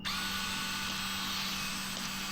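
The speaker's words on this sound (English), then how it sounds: "I got my DeWalt expansion tool" A DeWalt PEX expansion tool runs steadily while expanding 3/4 inch PEX-A pipe. It gives a close, continuous motorized whir with a low steady hum, alone and without talk.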